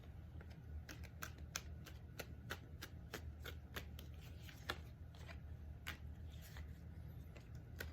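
Tarot cards being shuffled, heard as soft, close, rhythmic clicks and riffles repeating about every half second against a quiet room.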